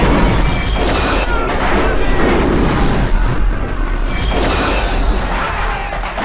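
Movie explosions from remote-detonated charges set in several buildings, a dense loud blast-and-debris roar that rumbles on for the whole stretch with two surges of crashing, no voices over it.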